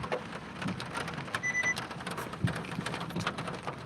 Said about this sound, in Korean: 빗소리가 이렇게 뚝뚝뚝 떨어져요